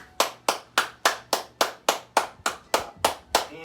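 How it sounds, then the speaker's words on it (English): A single person's hands clap during a qigong exercise session, about twelve sharp, evenly spaced claps in a steady rhythm, close and clear with nothing else heard. "now let's just do clapping"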